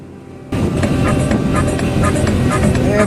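A Kartar 3500 tractor, a harvesting machine, moving with a steady loud engine rumble that starts abruptly and continues close by, with faint voices under it.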